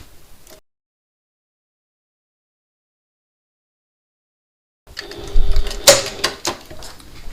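A sewing machine runs a regular-length stitch along the bottom seam of a backpack. After a long silence comes a short, close burst of clattering mechanical stitching that lasts a couple of seconds.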